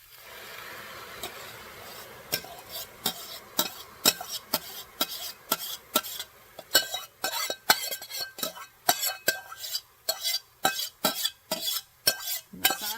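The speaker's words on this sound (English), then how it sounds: "My sauce is looking pretty good. I'm going to stir this up." A spoon stirs meat sauce for baked ziti in a pot, making a rhythmic series of sharp scraping clinks that grow steadier and more regular, close up, with no talking.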